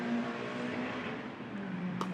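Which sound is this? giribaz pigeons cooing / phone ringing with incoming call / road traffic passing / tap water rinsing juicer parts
road traffic passing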